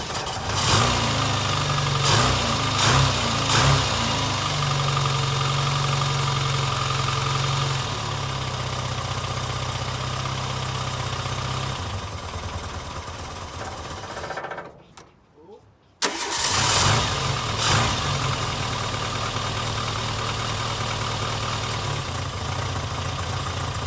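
A barn-find Austin Maestro with a rebuilt ignition system cranks, fires up and settles into a steady idle, falls nearly silent for a moment, then restarts and runs on, close by.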